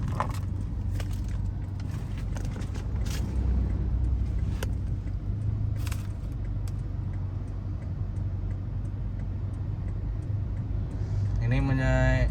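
A 2020 Toyota Innova 2.0 automatic fitted with a Tornado air intake drives through dense traffic, its engine giving a steady low hum and rumble inside the cabin, with scattered ticks and people talking over it.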